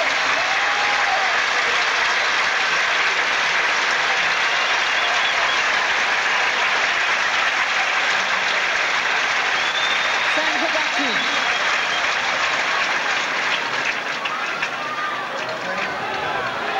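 At the 1996 French Open women's final between Graf and Sanchez Vicario, a large stadium crowd roars and applauds in a dense, sustained wall of noise that stays loud throughout, with a commentator speaking over it.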